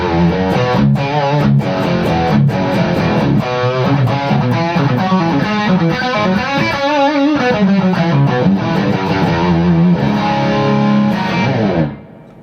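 Electric guitar with low-output Bare Knuckle Stormy Monday pickups played through a high-gain distorted tone, loud, thick chords and riffs ringing continuously for about twelve seconds before cutting off.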